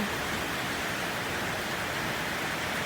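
Rain falls steadily as someone works outdoors in it, a dense even hiss of fairly quiet noise with no breaks or distinct drops standing out.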